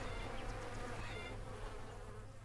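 Bees in the farming game Farmer's Dynasty give a dense, continuous buzz at close range, steady and fairly loud throughout, with no talking.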